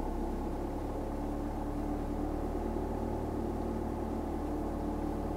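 A car engine hums steadily and low from inside the cabin during a driving lesson, with light gas applied and the clutch held at its biting point. The hum stays even and continuous with no talking.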